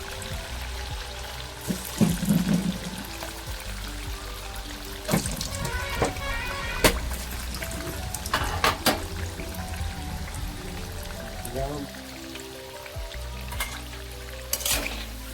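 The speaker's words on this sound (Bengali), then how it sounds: "এগুলো তেলে দিয়ে একদম হালকা আঁচে ভেজে নিতে হবে।" Pakoras frying in oil over low heat give a steady, soft crackle and sizzle with scattered pops and bubbling. The sound stays close and even throughout, with no one talking over it.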